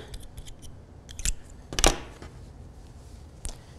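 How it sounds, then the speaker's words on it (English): Scissors snip through crochet yarn in two or three quick, crisp cuts, close and fairly quiet, with soft handling rustles around them. "then we'll just cut our yarn"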